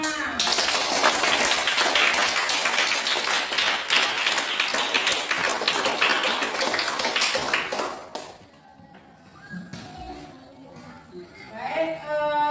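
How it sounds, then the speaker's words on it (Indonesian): A classroom of students applauds after group presentations, with dense, loud clapping for about eight seconds that then stops abruptly, followed by quiet room tone and a few voices talking. "baiklah kita tepukkan bersama"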